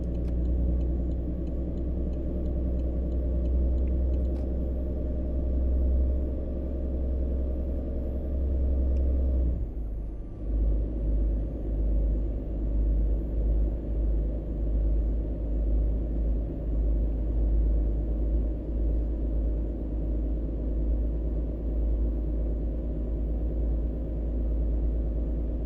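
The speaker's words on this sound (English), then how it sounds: "this engine came out of a Z-Mods pack, so it should be recorded from a real truck" Truck engine from a Z-Mods sound pack in American Truck Simulator, recorded from a real truck, hauling a heavy load: a deep, steady diesel rumble with a brief dip in the middle before it settles back into a continuous drone.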